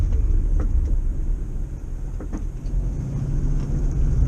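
Cars rumble past on a nearby road on a school-out afternoon, a steady low traffic drone with a few passes swelling and fading.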